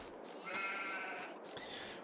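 A single sheep bleats in a farming simulation game, a short wavering cry, faint with a second quieter call after, over soft background.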